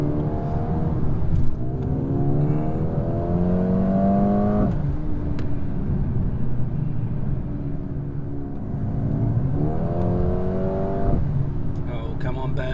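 A 2020 Mercedes-AMG A35 sedan accelerates on an open road, its engine note climbing steadily through the gears with a shift around the middle, loud and continuous beneath someone talking over it.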